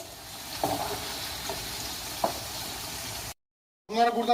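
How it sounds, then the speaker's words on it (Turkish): Potatoes frying in hot oil in a deep pot give a steady, close sizzle with a few sharper pops. The sound cuts out briefly, then a voice starts speaking at the end. "hepimiz üç aşağı beş yukarı patatesi kızartıyoruz zaten"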